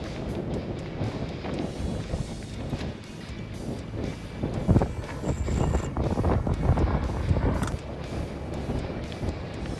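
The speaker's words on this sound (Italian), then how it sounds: "Quando c'è così vento" Strong wind buffets the microphone at the seaside during sea fishing for bluefish, a steady loud rushing roar with gusty surges that runs the whole time, with no talk.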